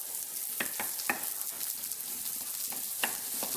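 Ingredients sizzling in a well-seasoned, not non-stick pan, with bursts of sharp clicks and scrapes as they are stirred, close and steady throughout.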